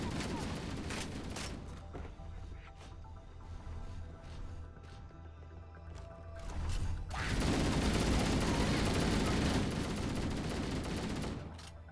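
A magazine is emptied in a long burst of rapid gunfire in Halo: Combat Evolved, the fusillade swelling loud and dense over the second half after scattered earlier shots.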